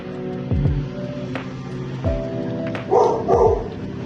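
Luna the dog barks several times, a few sharp separate woofs spread out at close range, with one louder, fuller pair of barks toward the end.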